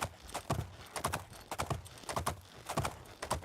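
A horse's hooves clip-clop in a steady trotting rhythm in the video game Oblivion, clear and close with no talk over them.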